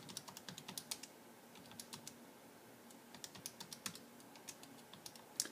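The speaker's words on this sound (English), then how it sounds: "in list 2, I'm going to type in the volume." Quick key presses on a TI-89 calculator entering data, a run of soft, close clicks in bursts with short pauses, alone without voices.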